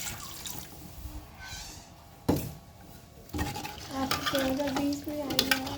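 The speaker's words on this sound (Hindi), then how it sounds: "अब इसमें ये गर्म पानी डाल रही हैं" Hot water poured into a pan of frying potatoes and chicken for a shorba, a sudden hiss and bubbling burst followed by sizzling and stirring clatter, with brief faint background sounds.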